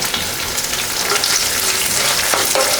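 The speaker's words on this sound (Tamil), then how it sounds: "போட்டு 2 நிமிஷம் வதக்கி விடலாங்க." Onion and curry leaves sauté in a pan for capsicum chutney, giving a loud, continuous close-up sizzle with a faint stirring scrape and no talking.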